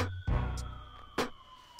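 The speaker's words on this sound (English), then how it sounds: "You hear them sirens" Sirens blare in short loud bursts on a fireworks track, rising sharply three times over a steady synth tone with a low thudding beat underneath.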